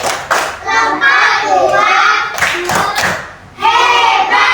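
A class of children chant and clap through the rhythmic 'tepuk hebat' cheer, bursts of claps and thumps mixed with loud sung children's voices nearby.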